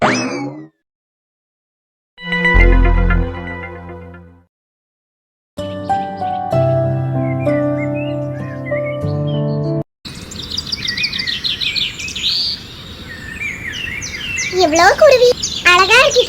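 After a few short, separate sounds, a burst of high, busy chirping and tweeting fills the final seconds, fairly close and lively.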